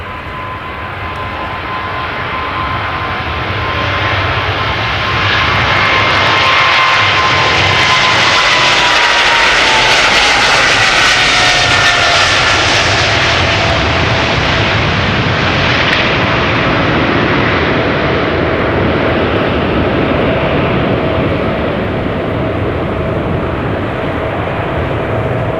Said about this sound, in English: KLM flight 635 to Las Vegas, 777-200 19 years old,